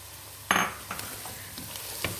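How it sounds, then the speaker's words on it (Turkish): Carrots sizzle quietly in a pan while a utensil stirs them, with a few sharp scraping strokes against the pan. "iki adet doğramış olduğum havucum da güzelce şöyle kavurayım"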